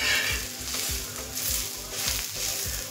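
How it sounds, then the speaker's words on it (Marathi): Onion frying golden in a pan for a quick chicken curry, a steady close sizzle with rhythmic stirring strokes repeating every half second or so. "या ठिकाणी कांदा व्यवस्थित आपला परतून झाला आहे,"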